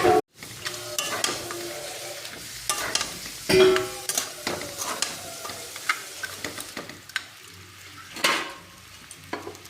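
A fried catla fish head goes into a pan of curry with fried potatoes and cumin powder, giving bursts of sizzling and frying crackle with stirring scrapes, close and moderately loud, with no talk.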